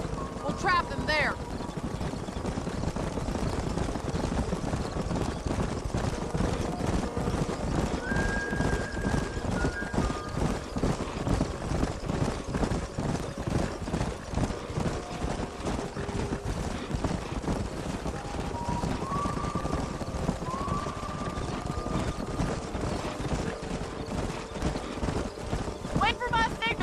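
Horses in Red Dead Redemption gallop in a steady clip-clop of hooves that runs the whole time, with whinnies cutting through now and then as a rider drives a wild herd up a narrowing canyon.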